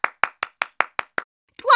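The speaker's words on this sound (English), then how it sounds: "Clap your hands real fast." Hands clap quickly in a steady beat in a children's song and dance setting: seven sharp, evenly spaced claps close to the listener, then a voice begins right after.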